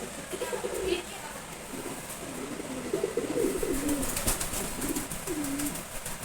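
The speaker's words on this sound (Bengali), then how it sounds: "এটা হচ্ছে সবজি গোড়া কবুতরের বাচ্চা, 1 মাস বয়স।" A one-month-old sobji gola pigeon chick and nearby pigeons coo in low, rolling phrases, repeated several times over a steady background hiss, with faint talk at moments.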